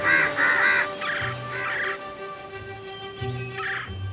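Crows in an animated story caw in a rapid run of harsh calls, several overlapping, over a soft musical background with no talking.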